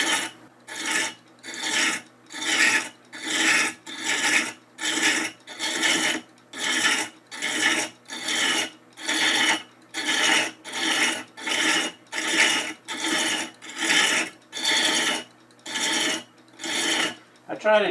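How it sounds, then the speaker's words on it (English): A wooden keepsake box lid turns along its cut thread, producing a long series of regular raspy rubbing strokes, each about a second long with brief pauses between, close and clear with no talking. "I just allow it to catch the thread and pull itself in at its own speed."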